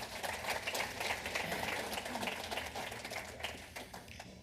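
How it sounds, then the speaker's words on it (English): Faint, steady applause from a banquet audience at a Coast Guard Auxiliary dinner, scattered claps blending into a soft continuous patter heard from a distance. "So give yourself a round of applause."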